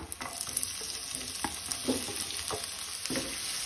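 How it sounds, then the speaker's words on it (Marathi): Onion frying in oil with garlic and ginger in a pan, a steady hiss with intermittent stirring scrapes and clinks throughout, close and moderately loud with no talking. "कांदो आमकां बरो भाजून घेवपाक जाय"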